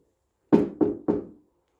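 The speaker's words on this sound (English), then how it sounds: "Knock, knock." Three firm knocks on a door, evenly spaced and close by, ring out alone in otherwise silent surroundings.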